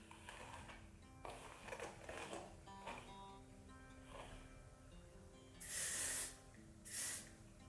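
Hairspray hisses onto freshly brushed hair in two short bursts, the first longer than the second, loud and close against a quiet room.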